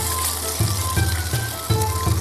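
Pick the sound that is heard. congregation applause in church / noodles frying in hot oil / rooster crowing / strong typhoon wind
noodles frying in hot oil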